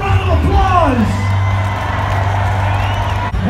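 A large rock festival crowd at Sonic Temple in Columbus, Ohio roars with sustained cheering, whoops and yells, loud and continuous throughout, a dense wall of voices.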